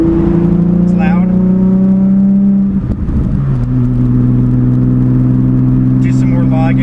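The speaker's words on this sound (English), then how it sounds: "Driving along, getting some more miles put onto it. It's loud." A car's engine drones steadily while driving after an oil change, running loud with a dip and shift in pitch midway, then settling back to a constant hum; a voice talks over it.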